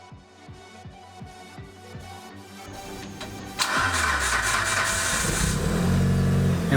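A Mitsubishi Evo 8 running a standalone ECU cranks with a rapid, rhythmic starter chatter, then catches and fires into a loud, close, rumbling idle that steadily holds.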